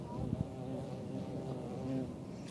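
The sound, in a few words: big bee flying around a microphone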